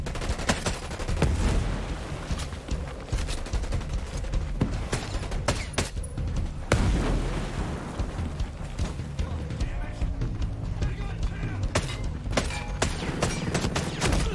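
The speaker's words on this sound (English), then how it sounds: "That is a lot of artillery." Artillery fire in Ghost Recon Breakpoint, a dense barrage of heavy booms and rapid gunfire rolling on nonstop, loud and close, with voices talking over it at times.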